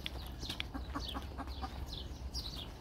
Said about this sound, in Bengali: এগুলো হলো টার্কি মুরগি দেখুন মাশাল্লাহ। তারপরে পাশে আরও মুরগি রয়েছে